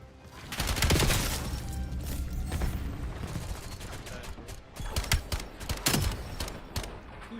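Gunfire from the Peacekeeper weapon in Call of Duty: Black Ops 7 multiplayer, with a dense opening volley, then several sharp separate shots near the end over a busy game background.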